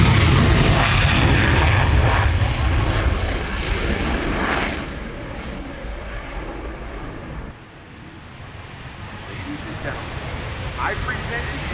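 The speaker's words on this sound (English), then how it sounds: "I present to you the United States Air Force F-22." A United States Air Force F-22 jet roars past at an airshow at the Royal International Air Tattoo, loud at first and then fading into a distant rumble as an announcer talks over it.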